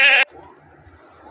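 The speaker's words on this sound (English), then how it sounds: "sheep," A single sheep bleat, loud and close, lasting about a quarter second, then quiet low background.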